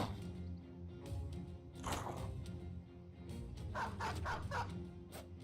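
Dogs bark in the video game Battle Brothers, several sharp woofs and yips spaced irregularly over a low steady game soundtrack, moderately loud with no talking.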